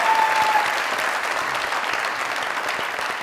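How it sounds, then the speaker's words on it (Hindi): A studio audience gives steady, loud applause to welcome a guest onto a talk show about the Pakistani drama industry. The dense clapping holds for the whole stretch without a break. "हमारे आज के मेहमान जोरदार तालियां।"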